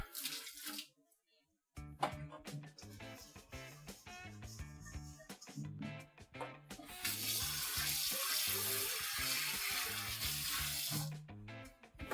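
A kitchen tap runs while a bowl or utensil is rinsed after making cachapas, Venezuelan corn pancakes. A steady, fairly loud rush of water lasts several seconds, with rhythmic background music and brief clinks before and after.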